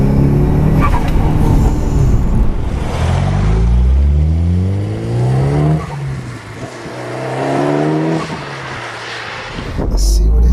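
A 21-year-old Mitsubishi Evo 6 with a big exhaust pipe revs loudly and steadily, engine note rising and falling in sweeping pulls close by, with a voice talking over parts of it.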